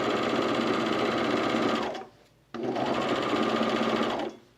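An overlocker serges the raw fabric edge of a pair of leggings with a steady, fast mechanical whir that runs for about two seconds, stops briefly, then starts again for a second long run, close and clear with no talk.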